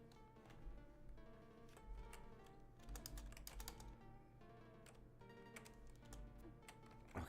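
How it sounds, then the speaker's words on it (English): A cat slaps at a computer keyboard, giving irregular clicks and taps over steady background game music with no speech. "I have a kitty that is trying to slap the keyboard away from me"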